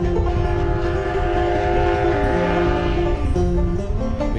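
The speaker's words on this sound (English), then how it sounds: "another train, this one from Alamosa in the San Luis Valley, carries passengers up here to the top" A Rio Grande Scenic Railroad passenger train from Alamosa climbs through the San Luis Valley to a 9,400-foot Colorado pass, its steady engine drone and tonal horn sounding continuously and loudly throughout.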